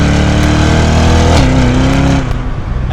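Loud, close Chevrolet Corvette C8 engine revving hard under acceleration, building in pitch with a brief shift-like dip midway, then fading slightly, with no talking over it.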